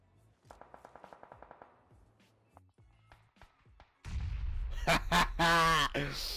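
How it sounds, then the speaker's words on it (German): Gunfire aimed at the player in PlayerUnknown's Battlegrounds: a fast burst of roughly a dozen shots, then scattered single cracks, followed by louder close noise and bursts as a player speaks over it. "er schießt auf mich die ganze Zeit"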